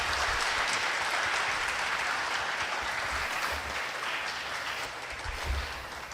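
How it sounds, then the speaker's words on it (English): Audience in a courtroom community event at a Catholic high school giving a round of applause for attorneys, steady dense clapping that holds for several seconds and fades slightly near the end. "So if I could get a round of applause for our attorneys here today"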